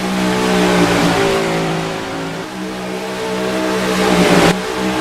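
Racing car engines rev in a racing video game, loud and close, pitch climbing and dropping through gear changes with a sharp cut near the end.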